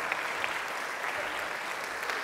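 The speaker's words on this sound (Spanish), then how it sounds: "Les pido un fuerte aplauso, por favor" An audience at a formal conference applauds, a steady wash of clapping from a room full of people, moderately loud and even throughout.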